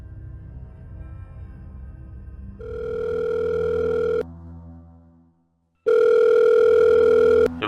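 Telephone ringing loudly and close with a steady electronic tone, one long ring, a short pause, then a second ring before the call is picked up, with no talking underneath.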